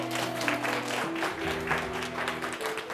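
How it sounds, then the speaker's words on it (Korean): Applause from a youth group at a church worship service, moderately quiet and steady, with many hands clapping under sustained musical tones and a background murmur. "박수 주세요."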